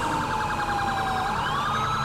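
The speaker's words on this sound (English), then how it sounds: "Why is he running the most obnoxious siren in priority?" Police siren in the LSPDFR video game, a loud continuous wailing tone sweeping steadily in pitch with a fast warbling pulse layered over it, heard alone with no talk.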